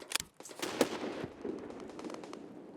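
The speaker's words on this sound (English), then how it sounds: "There was chaos about in new construction, grenades, gunfire going everywhere." Gunfire and grenade blasts crackle at a distance in the shooter game Escape From Tarkov, a scatter of sharp pops and bursts over a faint rumbling background.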